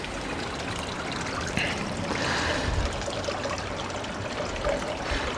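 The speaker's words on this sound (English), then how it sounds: "the running water does make for a nice sit down in the garden" A garden water feature runs with a steady, close trickle of water that stays even throughout, with a faint splash or two and no talking.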